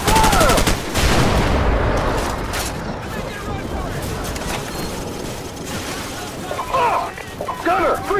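Gunfire in the video game Call of Duty 4: Modern Warfare, a loud opening burst followed by sustained rattling fire and crashing noise, with game voices and radio chatter over the battle.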